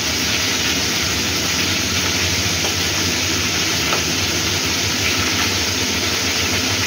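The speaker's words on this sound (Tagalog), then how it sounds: "Yan, ganyan ako mag-prito." Fish frying in oil in a pan gives a steady, loud, close sizzle with constant crackle that never lets up, and no one talks over it.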